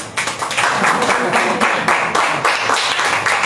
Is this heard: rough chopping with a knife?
no